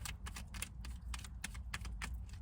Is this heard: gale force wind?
no